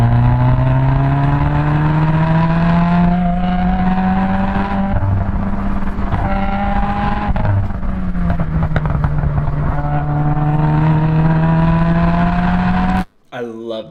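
Race car at speed on a lap of High Plains Raceway, a loud close engine note rising and falling through gear changes for most of the run, cutting out abruptly near the end.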